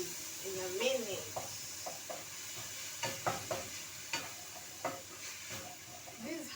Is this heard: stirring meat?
yes